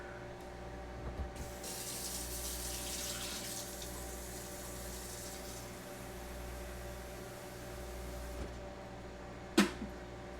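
Water pours from an electric hot water heater, a soft, steady hiss of flow lasting a few seconds in a quiet room, followed by a single sharp click near the end.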